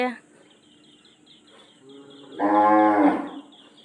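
A single loud, drawn-out cow moo rises near the end, preceded by quieter lowing and faint background chatter.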